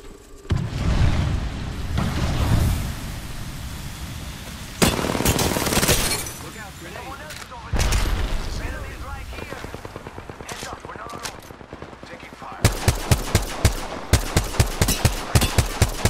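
Gunfire in the video game Apex Legends comes in loud bursts of rapid automatic shots and single cracks, mixed with brief blasts. A player talks between and over the shooting.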